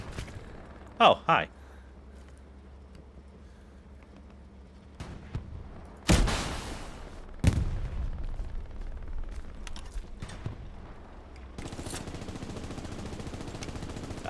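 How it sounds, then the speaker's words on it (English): Scattered gunfire in the WW2 video game Hell Let Loose: an early close pair of sharp shots, then isolated louder cracks and a steady battle rumble, with a brief spoken greeting. "I hear lots of shooting"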